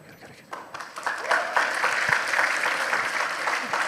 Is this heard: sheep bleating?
no